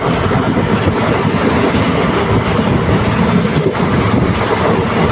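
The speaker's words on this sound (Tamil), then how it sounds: "ட்ரெயின் போட ஸ்பீடு லைவில் நீங்களே பாருங்கள் என்ன ஸ்பீடு போகுதுன்ட்டு" Passenger train running fast between Palani and Pollachi, a loud, steady roar of wheels and rushing air with faint rhythmic clatter, heard continuously from on board.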